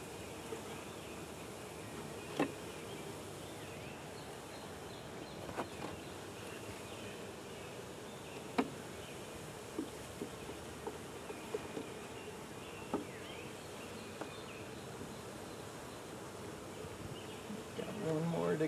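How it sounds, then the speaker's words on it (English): Honeybees from a package being installed into a hive hum in a steady, close buzz that persists throughout, with a few soft knocks and rustles of equipment and occasional faint voices nearby. "So here's one of our workers kind of marking where the hive is."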